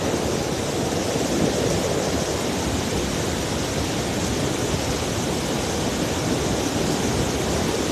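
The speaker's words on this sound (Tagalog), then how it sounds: "Lakas ng agos." A strong river current rushes continuously, filling the scene with dense, steady broadband roar and churning water noise, loud and unbroken throughout.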